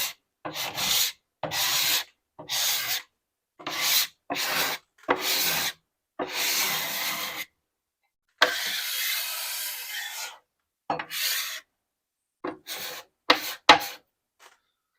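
A hand scraper rasps along the old finish of a 1930s Heywood Wakefield wooden dresser in short repeated strokes, bursts of scratchy friction separated by brief pauses, with one longer pass midway.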